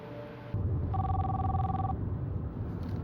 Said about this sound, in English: Munich called Detective Mitchell with the news.